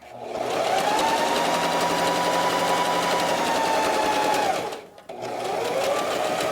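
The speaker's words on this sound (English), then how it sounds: "we're going to sew together the 2 pieces at the bottom" A sewing machine runs fast and steadily, stitching two fabric face mask pieces together, then pauses briefly and starts again, loud and close.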